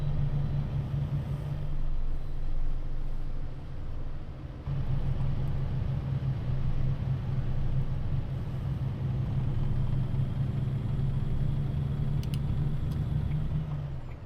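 An International Lonestar truck in American Truck Simulator drives with a steady low engine drone and road rumble, hauling an old railway locomotive on a trailer; the hum carries on unbroken with no talk.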